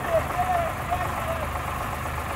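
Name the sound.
Eicher tractor engines during speed test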